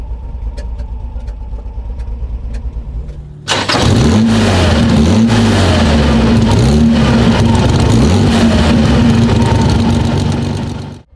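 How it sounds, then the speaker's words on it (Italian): An Austin Healey six-cylinder engine cranks, fires and catches abruptly after a quieter lead-in, then runs loud and close with repeated rising and falling revs that end in a brief tail-off. "Il sound del 6 cilindri è veramente molto pieno, molto corposo"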